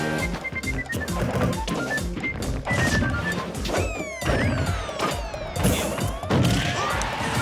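Forward smash attacks and other hits in the Super Smash Bros. 4 video game: repeated sharp impact cracks and thwacks over busy game music and whooshing effects, with rapid bursts of action throughout.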